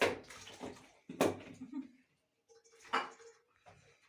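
Dishes being washed under running water in a home kitchen, with short bursts of splashing water and light clinks, fairly faint, separated by pauses.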